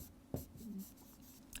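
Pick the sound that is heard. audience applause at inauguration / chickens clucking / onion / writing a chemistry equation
writing a chemistry equation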